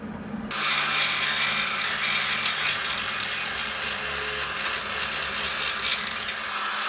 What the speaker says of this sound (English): go ahead and clean it up with the grinder